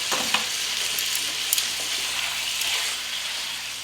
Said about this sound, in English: So we'll continue frying that,